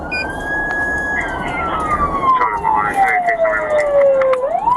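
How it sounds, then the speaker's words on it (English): A police car siren wails loud and close during a multi-mile pursuit, its tone sweeping slowly downward then rising again, with road noise underneath and a voice talking over it. "the lights and siren of a police car behind"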